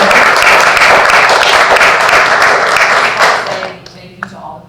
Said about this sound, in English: I'd like everybody to join me in giving them a round of applause